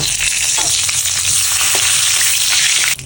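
Whole cumin seeds and two bay leaves sizzling in hot oil in a pan, a loud, dense, continuous frying hiss up close that drops briefly near the end, with no voices.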